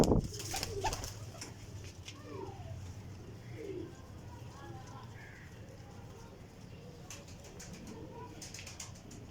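Flying pigeons kept in a loft coo softly and repeatedly at moderate distance, with a steady low background hum and a few sharp knocks early on.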